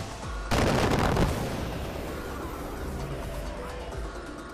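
A single loud gunshot or blast fires in the video game Far Cry 4, a sharp impact followed by a long rolling echo that fades into ambient background noise.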